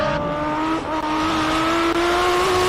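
A blue and red race car climbing the Simola hillclimb track in the King of the Hill event, its engine a loud, steady high-revving drone with a brief dip in pitch partway through, close and alone.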